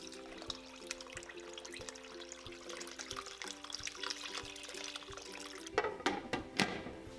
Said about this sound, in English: Add about 4 quarts of water in the pot.